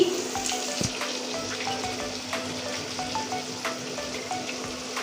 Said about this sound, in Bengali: আলু তো তেলে পড়ে গিয়েছে